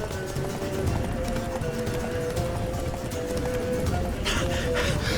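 Roach, a horse in The Witcher 3, gallops in a steady, loud run of clip-clopping hoofbeats, with a brief whinny near the end amid ambient game sound.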